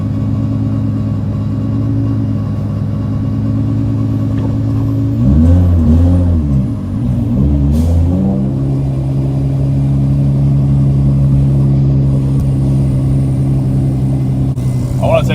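A Nissan 350Z engine hums steadily from inside the cabin while driving, with a low droning rumble that shifts pitch briefly as the car changes speed midway.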